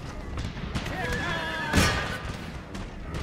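Horses whinny and neigh with hooves thudding during a cavalry charge in the Empire: Total War video game, a loud burst of battle noise near the middle, with someone talking over the game sound.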